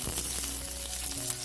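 Green chilies frying in hot coconut oil with mustard seeds and curry leaves for a banana stem pickle, a steady close sizzle with crackles and popping throughout, no talk.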